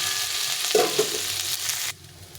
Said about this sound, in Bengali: উচ্ছে আর আলুটা ভাজা হয়ে গেছে।